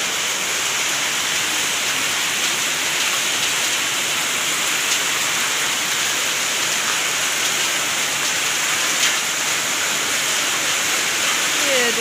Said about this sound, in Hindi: ओ भाई इतनी ज़्यादा बारिश है।